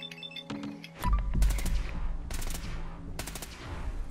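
Gunfire in the Fallout 4 video game rings out in sharp bursts, several rapid shots in quick succession followed by more spaced blasts, loud and close over faint background music.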